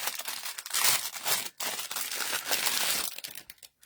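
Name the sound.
die cutting a piece of paper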